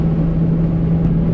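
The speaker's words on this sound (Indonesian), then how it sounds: "Oke, ini kita gaspol di straight" A car runs at full throttle down the straight of Sentul circuit during a track day, a loud, steady engine drone heard up close with no talk.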